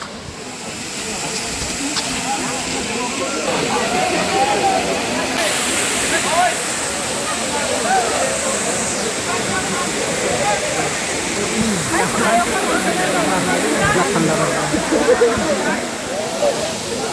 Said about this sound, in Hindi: फाइनली हम झरना पे आ गए हैं